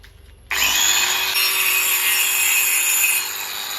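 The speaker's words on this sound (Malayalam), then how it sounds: "ഇതിനെ ആദ്യം നമുക്ക് ആവശ്യമുള്ള രീതിയിൽ ഒന്ന് കട്ട് ചെയ്തെടുക്കണം" A power saw bites into a wooden log after a brief quiet moment, then holds a loud, steady, high whining rasp for about three seconds before easing slightly near the end.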